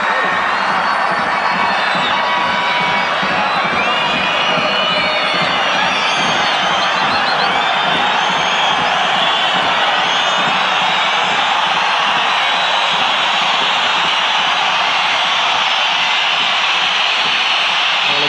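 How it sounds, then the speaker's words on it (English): Home crowd at the Centenario stadium during a Uruguay versus Australia football World Cup qualifier, a loud sustained roar of massed voices and shrill whistling that fills the whole stretch without letup. "Whistles from the home crowd at the Centenario."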